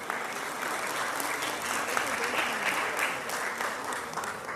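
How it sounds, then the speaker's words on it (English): Steady applause from a sizable audience at an Indian classical dance debut recital with a live orchestra, dense clapping that holds at an even level throughout without fading. "Let's give another round of applause to Rishika and to our fantastic orchestra"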